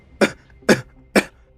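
Three sharp, harsh coughs come in a quick even rhythm, close and loud, as a dramatic sound effect for a weakened character collapsing to the ground.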